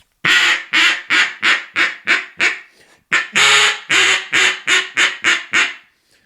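A duck call blown hard to mimic a loud mallard hen, a run of about seven sharp, descending quacks, a brief pause, then another run of about seven, loud and close, with no other sound.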